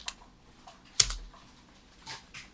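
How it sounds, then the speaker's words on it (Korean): Fingers tap a computer keyboard in a few soft, scattered keystrokes, with one sharper, louder press of the enter key partway through, all quiet and close with no voices. "100 입력하고 엔터 칠게요"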